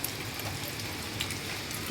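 Steady rain falls outdoors near a swollen creek where children are bathing, a soft, even hiss of drops with no voices or other distinct sounds over it.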